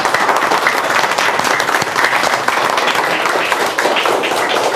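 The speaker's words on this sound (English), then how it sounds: "can we have a big round of applause for your new teacher?" Audience applause welcoming a new teacher at an educational orchestra concert, a dense, steady wash of many hands clapping at close range that holds loud and even throughout.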